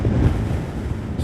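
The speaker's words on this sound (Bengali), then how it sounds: "দেখো বুঝতে পারছো কিরকম হাওয়া চলছে এখানে" Strong wind during a sandstorm on a high desert road, roaring steadily and loudly across the microphone as a continuous low rumbling buffet with no speech.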